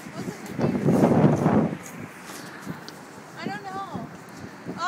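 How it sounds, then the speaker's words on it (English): Strong gusty wind outdoors in Chicago buffets the microphone in a loud low rumble that swells and eases, with people talking through it. "Whoa, it's so windy here."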